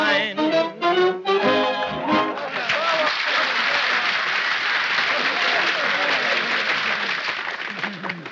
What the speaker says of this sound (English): Ladies and gentlemen, thanks a lot for the nice applause.